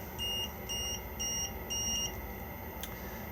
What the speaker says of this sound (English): If I press it at the moment, it will beep at us